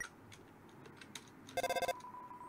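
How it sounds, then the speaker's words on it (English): Cell phone call ringtone from the video game Deltarune: a brief electronic ringing burst of rapid repeated tones, loud and clear, following a few soft clicks. "You tried to call on the cell phone."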